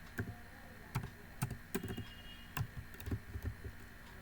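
Keys on a computer keyboard tapped in short irregular bursts of clicks, close and fairly quiet, while someone sets up the Neovim text editor, with no voices over the typing.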